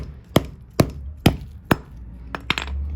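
A hammer strikes frozen chicken feet six times in quick succession, sharp close thuds at a fairly even rhythm with two blows landing close together near the end, heard alone without talk.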